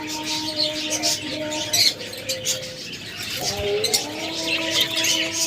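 Albino budgerigars with red eyes chirp and tweet in a chattering mix of high calls, fairly close, with no talk over them.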